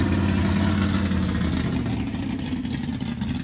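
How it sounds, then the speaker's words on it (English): Loud, continuous engine roar from cars at a quarter-mile drag strip, with a deep rumbling low end and a rough, throaty texture throughout, no voices. "There's a lot of noisy cars out here, obviously."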